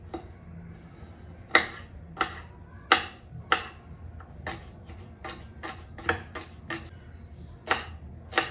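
Coriander and green chillies are chopped with a knife on a board, a series of crisp sharp taps at an uneven pace, about a dozen strokes, close and fairly quiet with no talking.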